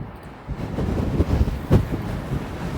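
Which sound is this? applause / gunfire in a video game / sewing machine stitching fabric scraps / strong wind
strong wind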